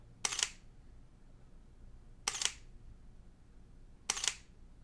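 Sony A7 mirrorless camera shutter firing three times at even intervals of about two seconds, each a crisp, close mechanical click-clack in a quiet room.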